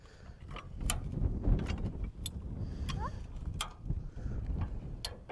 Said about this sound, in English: I'm just putting pressure on the jack for now